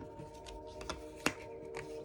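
A few soft tarot card flicks and slaps against a surface as cards are flipped over, close and quiet, one sharper snap standing out among gentle handling noises.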